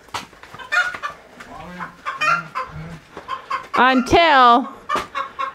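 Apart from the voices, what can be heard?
unhappy hen clucking after her egg was eaten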